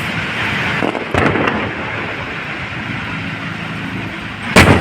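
Fireworks burst over the Pasig River esplanade at an inauguration, a dense continuous rumble of distant explosions with a few sharper cracks and a loud bang at the end, crowd noise underneath.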